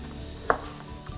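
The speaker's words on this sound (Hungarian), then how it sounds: "ezt majdnem teljesen összevágom és belerakom a levesbe" A single sharp knife chop on a cutting board sounds as smoked sausage is cut up for a winter sausage soup, one crisp close knock over quiet kitchen background, with a fainter tap near the end.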